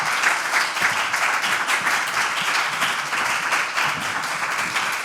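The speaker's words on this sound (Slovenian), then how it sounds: "pospremimo jih z aplavzom" An audience applauds a vocal group walking onto a concert stage at a charity music and arts festival, with dense, sustained clapping from a sizable crowd.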